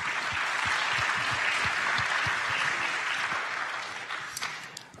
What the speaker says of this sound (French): On l'applaudit en tout cas.